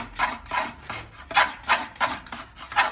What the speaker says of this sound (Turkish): Polyester çıtalarımızın yanlarındaki parlaklıkları tamamen alıyoruz.